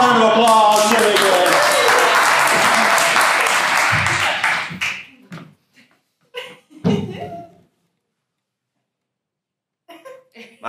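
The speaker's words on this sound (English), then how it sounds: "Let's give him a round of applause." A round of audience applause, loud and dense for about five seconds, then breaking off abruptly into scattered claps, thumps and brief noises with gaps of silence between them.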